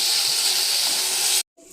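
Chilli paste with tomato frying in hot oil for Rayalaseema-style uggani, a loud, steady sizzling hiss that cuts off abruptly near the end.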